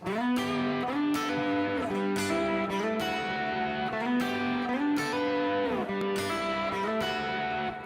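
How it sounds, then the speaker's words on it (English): A heavily distorted electric guitar plays sustained, buzzing chords that shift every second or so, loud, dense and continuous without pause. "Over here I've got a sound with a lot of gain."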